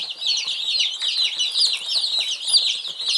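Barred Rock heritage-breed chicks on a farm in spring give off a continuous chorus of high, wavering peeps, many overlapping, close and steady throughout.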